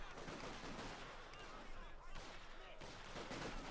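Rapid bursts of machine gun fire mixed with heavier artillery blasts crackle continuously in a Company of Heroes 2 World War II strategy battle, dense and loud throughout with no pauses.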